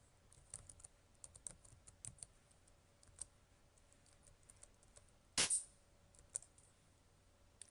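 Keys of a computer keyboard tapped out a short command in a Python turtle graphics session, faint scattered clicks with a louder clack near the end, likely the enter key, in a quiet room.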